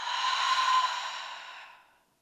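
A single deep, breathy exhale during a yoga breathing exercise, fairly close and soft, starting strong and trailing off smoothly over about two seconds, heard alone without talk.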